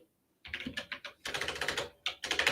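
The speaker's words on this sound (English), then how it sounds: "That is an aggressive keyboard, my friend." Hard, aggressive typing on a computer keyboard during a live tabletop game session, with bursts of rapid loud key clacks broken by short pauses, heard up close with no talking.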